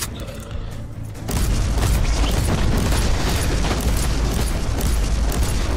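Full-auto gunfire from an assault gunner's weapon in Warhammer 40,000: Inquisitor bursts in after a quieter second and roars on as a loud, dense, continuous barrage of booming shots, with no voices over it.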